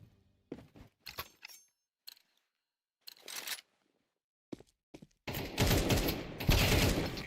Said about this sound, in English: A fierce exchange of fire there